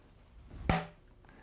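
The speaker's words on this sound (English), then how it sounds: "let's go ahead and add water now to the paper towel" Water is poured onto a paper towel laid against glass, a single soft splash and rustle building to one brief burst near the middle, then fading.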